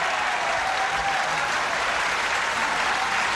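A game show studio audience breaks into applause, a dense, even roar of clapping hands that holds at a steady, strong level throughout.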